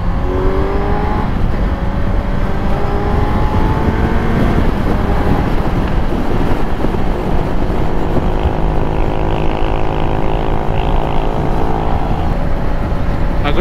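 A Kawasaki Z900 2023 four-cylinder motorcycle engine drones steadily while riding, loud and continuous with wind roar and rising and falling engine tones as the revs change, no voices.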